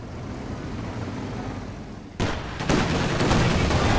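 Tank shells fired through trees in Company of Heroes 2 land as a sudden heavy blast partway in, with a second loud burst soon after over a low battle rumble.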